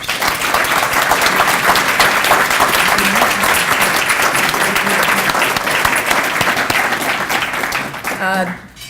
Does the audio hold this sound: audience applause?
yes